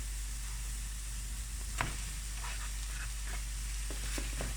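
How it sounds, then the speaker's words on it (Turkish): Chopped onions and minced meat sautéing in a pan: a steady, close sizzle fills the clip, broken by a few sharp scraping clicks of stirring, with no voices. "1-2 dakika soğanları kavurmanız yeterli. Hemen kıymanın yarısını ilave ediyorum."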